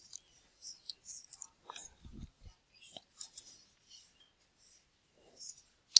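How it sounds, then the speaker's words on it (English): Someone types a search into Google Scholar on a computer keyboard, producing sparse, faint, irregular key clicks in short bursts against a quiet background. "So here I'm going to type in Google Scholar."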